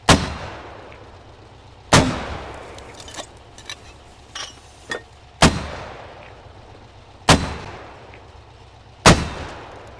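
Mortar rounds firing in the video game Squad: five sharp, loud blasts spaced roughly two seconds apart, each trailing off in a short rumbling decay, with faint clicks and handling noises between shots.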